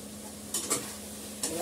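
Dry poppy seed paste fries in a pan with a soft steady sizzle, broken by a few quick scraping stirs of a utensil against the metal, close and fairly quiet.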